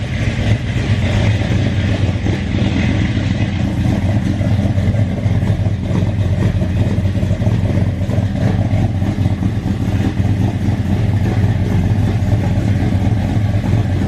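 Ford F100 pickup truck engine idling steadily, a loud, continuous low rumble with an even throb that holds unchanged throughout, no voices.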